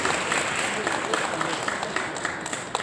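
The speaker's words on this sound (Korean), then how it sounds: "박수로 좀 환영해 주세요." Audience clapping welcomes a guest at a Baemyung High School sports-college admissions seminar, a brief crowd applause mixed with voices in a room, fairly loud and steady throughout.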